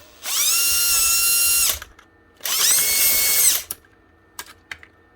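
A DeWalt cordless drill with a faulty chuck runs at full speed in two bursts of about a second and a half each, loud and close, followed by a few light clicks.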